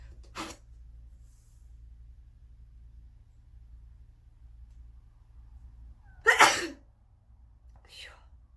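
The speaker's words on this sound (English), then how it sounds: "You might sneeze a little bit" A single sharp sneeze bursts out near the end, with a faint short breath before it and a softer one just after, over a low steady hum.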